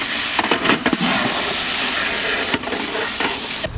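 Cold water hits peanut-stuffed brinjal frying in hot oil in a village kitchen, bursting into a loud, continuous close sizzle with a few sharp spits and stirring scrapes, no voices.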